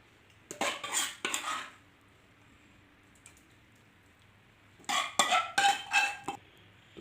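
Chana daal is served out of a cooking pot with a metal spoon: two bursts of close clinks, scrapes and clatters against the pot, separated by a few seconds of near silence.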